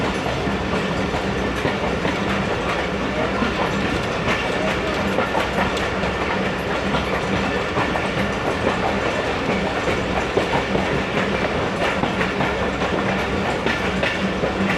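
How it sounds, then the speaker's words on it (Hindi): The Karakoram Express rolls out of Lahore Junction yard, a steady dense rumble of rail wheels with rhythmic clickety-clack over joints, heard from on board, continuous and fairly loud with no talk. "फाइनली लाहौर जंक्शन यार्ड से निकल चुकी है ट्रेन।"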